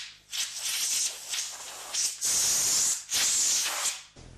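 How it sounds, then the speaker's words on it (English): A compressed air nozzle blows wood chips out of a mortise in a workshop, several loud, close hissing bursts of varying length separated by brief pauses. "I use compressed air a lot in the shop for stuff like clearing out these wood chips."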